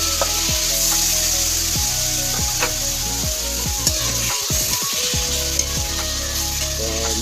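Bacon frying in butter in a pan for carbonara, a loud continuous close-up sizzle with crackling spits and occasional scraping stirs throughout, no voices.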